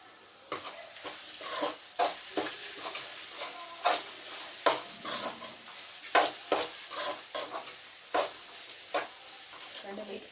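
Salted beetroot and carrot fry being stirred in a pan: a run of sharp spatula scrapes and clacks against the pan over a faint sizzle, close, irregular strokes, no talk.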